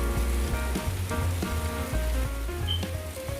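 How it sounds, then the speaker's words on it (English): Heavy rain falls on a garden during a night of July downpours, a dense, constant patter of drops hitting surfaces close by, with no voices. "It rained like crazy."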